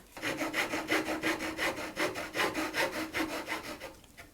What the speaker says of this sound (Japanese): それでノコギリで切ります。